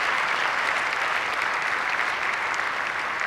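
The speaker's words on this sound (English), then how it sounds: "I'm glad you're clapping." An audience claps at a stand-up comedy show about peace. The applause is loud, dense and steady for the whole stretch, with no voices over it.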